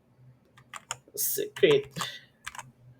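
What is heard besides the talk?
typing on a computer keyboard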